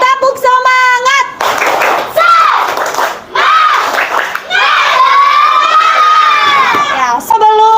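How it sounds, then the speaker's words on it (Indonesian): Schoolchildren in a classroom clap, stomp and cheer through an action song, with bursts of rhythmic clapping and loud shouted cheers from the group alongside sung and spoken voices. "Kalau kau suka hati, tepuk tangan."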